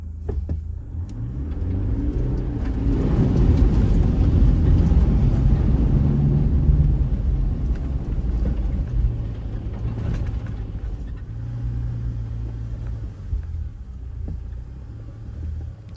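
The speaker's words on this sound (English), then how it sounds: "this is a late 2020 Toyota Prado Kakadu. Going through the bog hole just then, I had my center and rear diff locks on." A late 2020 Toyota Prado Kakadu with its center and rear diff locks engaged pushes through a muddy bog hole, its engine a low, steady rumble that swells in the middle and then settles back down.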